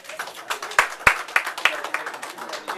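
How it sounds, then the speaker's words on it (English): Applause at a magic show during a JDRF fundraiser: scattered hand claps from a small audience, irregular and moderately close, with a few sharp louder claps rising and fading over a couple of seconds. "Round of applause for them."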